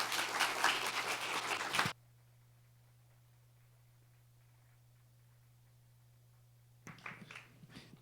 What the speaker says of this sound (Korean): 우리 큰 박수로 함께 환영하도록